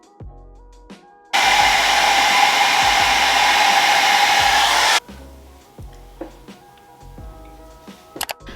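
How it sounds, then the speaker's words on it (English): A hair dryer blasts on damp, freshly dyed hair at home: a loud, steady, close whoosh for several seconds that cuts off abruptly, with faint clicks and taps before and after. "Let's just blow dry and find out where it is, okay?"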